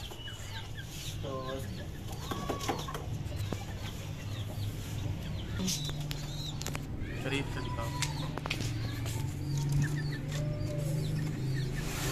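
Chickens cluck and murmur close by in a village in Karachi, with occasional louder squawks, while someone speaks briefly amid farmyard background noise.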